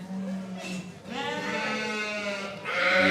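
A Poll Dorset ewe at a championship sheep show gives a drawn-out, wavering bleat after a shorter call, close by over faint background noise.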